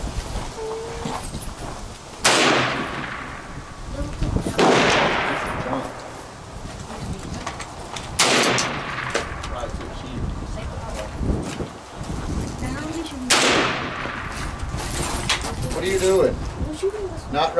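Three sharp M1 Carbine rifle shots ring out several seconds apart at roughly 2, 8 and 13 seconds, each with a long ringing decay, while people talk in the background throughout.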